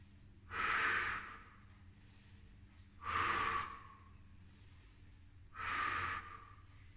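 Slow, deep breaths taken while resting in child's pose during a Pilates session, three long airy exhales spaced a couple of seconds apart, close and quiet with no talking.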